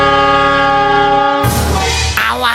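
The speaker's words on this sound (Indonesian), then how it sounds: "Itu ada kereta mau tabrakan." Cartoon train horn blares a long, loud sustained chord, then cuts abruptly into a burst of rushing, rattling crash-like noise and clatter as the train is about to collide.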